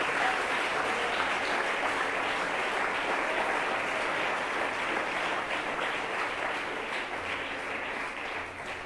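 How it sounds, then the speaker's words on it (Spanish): A church congregation applauds during a Spanish-language sermon, producing loud, continuous clapping from many people that holds at an even level for the whole stretch with no break. "Dele fuerte ese aplauso al Rey, por favor."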